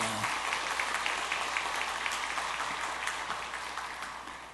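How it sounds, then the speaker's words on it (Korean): A church congregation applauding during a Sunday afternoon service after the pastor asks for a round of applause for a fellow pastor. The steady wash of clapping holds throughout, fairly distant and even, tapering slightly at the end. "박수 한번 쳐주시고."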